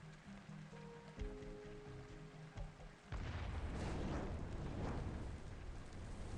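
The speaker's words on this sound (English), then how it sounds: "With a deafening boom, the sound of an explosion suddenly tore through the air from not too far away." A car bomb goes off in the video game Arknights: a sudden deep boom cuts off a calm tonal passage partway through, then a loud, sustained rumbling roar persists to the end.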